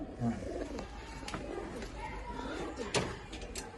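Pigeons coo softly in a low, repeated rumble, with a voice speaking at times and occasional clicks and knocks in the background.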